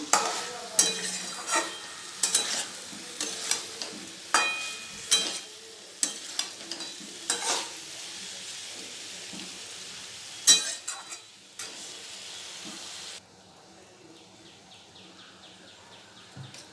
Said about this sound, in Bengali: তো মশলা দিয়ে একটু ভালো করে কষিয়ে নেব।